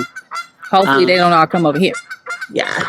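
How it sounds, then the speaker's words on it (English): Ducks give loud, honking calls that are drawn out and repeated close by, mixed with someone talking. "if you guys hear the ducks in the background"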